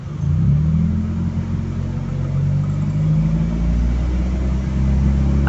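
A car engine revs up and holds around 2000 RPM, a loud, steady mid-range drone with a low rumble, close by and alone.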